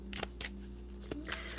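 Tarot cards being shuffled give a few quick, close riffling bursts separated by short pauses, soft and crisp against a faint steady hum, with no speech.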